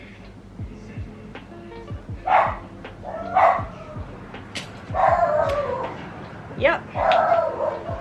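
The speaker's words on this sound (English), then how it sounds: "The dog's barking." A dog barks in several short bursts, moderately close, while a person talks over it in a home setting.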